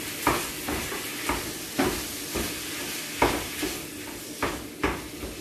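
Ground beef sizzles in a frying pan while a utensil scrapes and stirs it, giving a quiet, steady hiss broken by a series of irregular clacks and scrapes against the pan.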